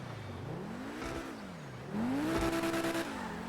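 A Pegassi Ignus hybrid sports car engine in Grand Theft Auto V revs and climbs in pitch, dips, then surges louder with a rising whine, sounding like an accelerating racing game car.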